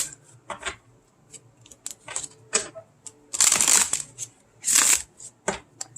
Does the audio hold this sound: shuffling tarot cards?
yes